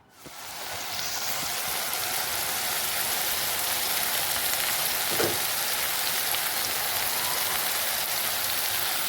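Mushrooms sizzle in a pan of oil with butter, a steady dense crackle and hiss that holds evenly loud throughout with no voices.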